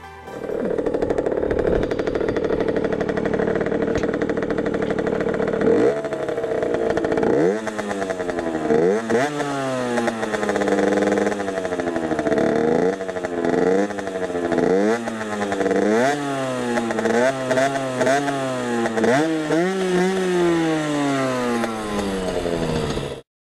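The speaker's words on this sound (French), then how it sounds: "vous avez eu un petit extrait de ce que donne comme son le pot" A small 50cc two-stroke moped engine with a LeoVince V6 exhaust idles with a rattling buzz, then revs up and down repeatedly, its exhaust whining and popping, loud and close.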